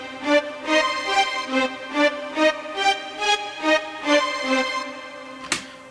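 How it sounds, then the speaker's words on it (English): A string line plays the Hollywood violins patch in the Nexus software synth, with no expansion pack: a steady run of short, evenly paced bowed notes with bright harmonics, loud and close, ending with a sharp transient. "little string line in Nexus"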